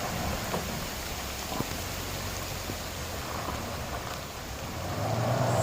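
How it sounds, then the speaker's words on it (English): Steady, dense rain pours continuously on a beach track with a constant broadband hiss, swelling slightly louder toward the end, with no voices. "it's pouring with rain"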